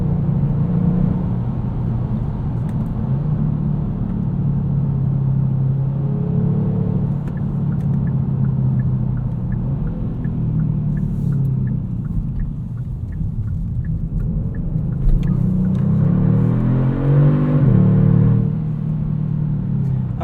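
A 2022 Kia Stinger GT2 AWD V6 accelerating hard from inside the cabin, a deep continuous engine rumble rising in pitch through the gears, with a brief shift and renewed climb near the end, loud and steady throughout.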